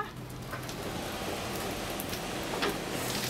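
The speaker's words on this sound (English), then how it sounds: "Make it stop raining." Rain falling steadily at sea onto an open deck during plastic-sampling trawl work, a dense continuous patter with a few sharper drop impacts near the microphone.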